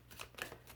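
A tarot card slides off the deck in a quick, faint papery rustle lasting under a second, close and quiet with no voices.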